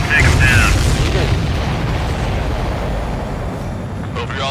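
Explosions in the flight combat video game Ace Combat 7: Skies Unknown, a loud deep boom that rumbles and slowly fades over several seconds.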